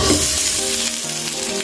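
Fish sizzles loudly in a hot frying pan, a dense, steady crackle throughout a brief moment of cooking with no one speaking.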